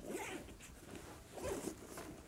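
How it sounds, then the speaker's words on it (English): An expansion zipper on an All American fanny pack is drawn open in one continuous close-up run, a steady rasping zip with slight surges and no voices. "You can unzip this pack and it will expand an inch and a half."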